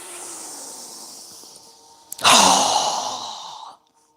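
A single forceful exhale during yoga breathing practice, a loud breathy rush up close lasting over a second after a quieter stretch of soft breath.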